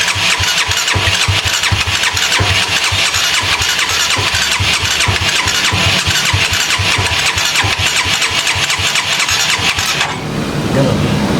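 Motorcycle engine running hard under throttle, a loud, steady rough drone held for about ten seconds before dropping to a lower idle at the end.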